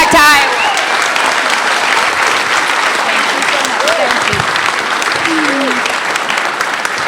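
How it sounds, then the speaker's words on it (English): A crowd at a Nikki Haley campaign event in Urbandale, Iowa, breaks into loud, sustained applause that keeps steady for several seconds, with a few brief cheers and voices rising above the clapping. "So please give Nikki a big round of applause and welcome back to Iowa."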